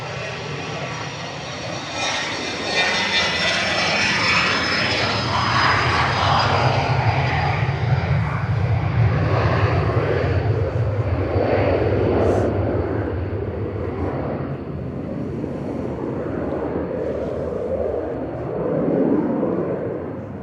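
An EasyJet airplane at Manchester Airport, a broad, loud jet engine roar that holds steady across the whole stretch with a thin rising whine early on, while people talk nearby.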